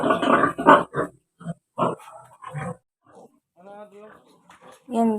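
A sow and her piglets on a family farm, with grunts and squeals mixed under loud, close talk from people nearby.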